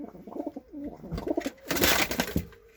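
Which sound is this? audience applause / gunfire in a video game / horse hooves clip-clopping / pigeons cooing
pigeons cooing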